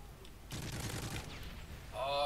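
Shotgun fire in a first-person shooter video game, a short burst of blasts heard faintly and fairly distant, with a voice talking briefly near the end.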